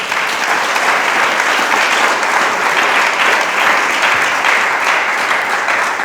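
Church congregation claps steadily in praise during a sermon, a dense, even wash of applause from many hands lasting several seconds with no voices over it.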